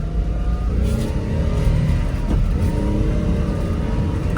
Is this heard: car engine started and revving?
yes